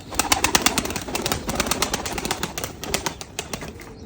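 Pigeons flap their wings in flight at dusk, a dense run of rapid clattering beats that rise and fall in bursts, close and fairly loud, with no talk.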